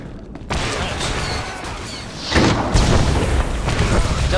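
A grenade launcher fires in The Old Republic, a loud booming blast that breaks out amid continuous game combat noise, followed by rumbling after-effects, with someone talking over it.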